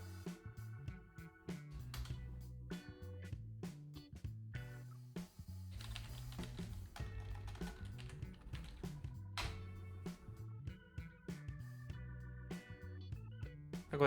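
Close, quiet keystrokes on a computer keyboard as a value is entered into a running C# program, irregular clicks in short bursts over a low steady hum.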